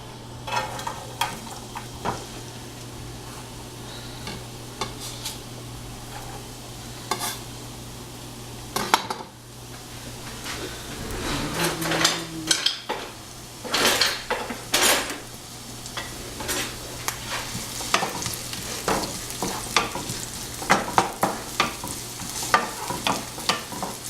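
Onions with green chillies sautéing in oil for kothu parotta, with a constant sizzle and frequent metal spatula scrapes and taps against the pan, busier and louder toward the end, no voices.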